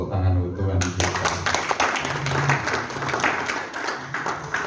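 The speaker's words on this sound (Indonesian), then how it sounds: "Tepuk tangan untuk Tuhan kita." Applause from a church congregation at a Sunday service, a dense, steady wash of clapping lasting throughout after a brief opening, with a voice and low music faintly underneath.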